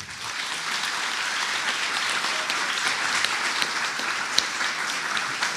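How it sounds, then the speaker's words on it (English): An audience of students gives a steady round of applause for President Maia Sandu and Prime Minister Alexander De Croo, moderately distant and even throughout, with no voices over it. "Please join me in a round of applause for our guests."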